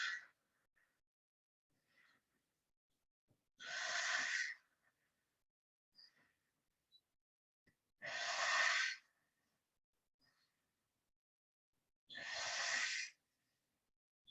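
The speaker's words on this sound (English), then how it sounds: "Reminding yourself to breathe." Three slow, deep breaths taken in a yoga breathing exercise, each a long airy rush lasting about a second, spaced evenly with quiet pauses between, close and clear with no talking.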